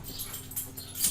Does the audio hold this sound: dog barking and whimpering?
yes